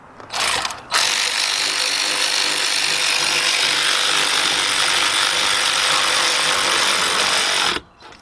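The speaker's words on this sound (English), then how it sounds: "take our big bill ratchet with our 17mm, and I'm going to bring those bolts in all the way" Ratchet with a 17mm socket turning in rear brake caliper bolts on a 2007-2017 Lexus LS460, a steady, close, continuous clicking whir running for about seven seconds with no talk.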